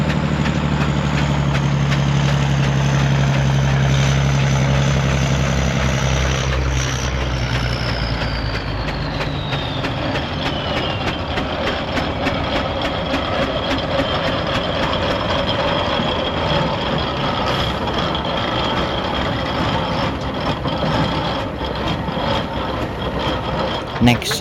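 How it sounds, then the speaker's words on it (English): A double crank compound barrel steam road locomotive and a Scammell heavy haulage lorry climb a hill at a steam rally, a steady heavy engine rumble and chuffing drone, loud and close at first, then a continuous mechanical roar as they pass. "We have a double crank compound barrel road loco, then a Jony Morgan wide load van, and then a Jony Morgan Scammell heavy haulage lorry."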